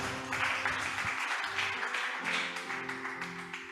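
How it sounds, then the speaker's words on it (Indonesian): Congregation applause at an Indonesian church fasting prayer service: a steady wash of clapping for about four seconds, with sustained keyboard-like tones underneath. "Tepuk tangan untuk Tuhan Yesus"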